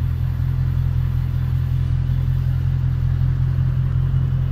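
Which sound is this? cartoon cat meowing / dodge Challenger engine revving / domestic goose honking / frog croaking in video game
dodge Challenger engine revving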